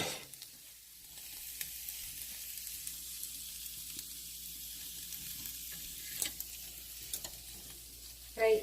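Egg bhurji, simple scrambled egg with onion, fries in a pan with a soft, steady sizzle and a few faint clicks of stirring throughout; no one speaks.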